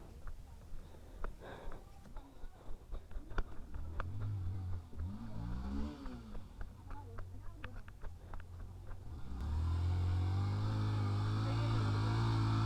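A motorcycle on a wild off-road trail between Sandhikharka and Amile in Nepal, its engine rumbling low and then revving into a loud steady drone near the end, with people talking over it.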